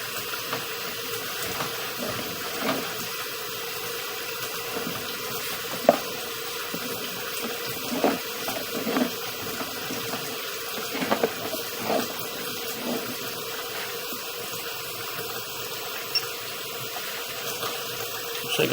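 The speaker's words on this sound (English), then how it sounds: "I'll run a little more water." Water flowing down a drain branch line from a laundry tray, heard as a steady faint rushing trickle with small splashes and gurgles, continuous and fairly quiet throughout.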